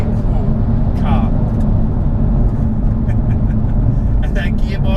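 A Jaguar F-Type R with its V8 engine rumbles steadily and loudly from inside the car, a dense low drone held throughout while someone talks over it.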